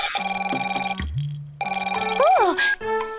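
A telephone rings in a children's cartoon about little cars and a grandpa excavator, its electronic melodic tones chirping in bursts alongside cartoon music and effects.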